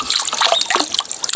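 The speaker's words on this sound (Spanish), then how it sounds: "¿Y oyen cómo cae el agua?" Water trickles and splashes down nearby at El Zapote, an outdoor spot, a close, continuous, bright patter with no voices.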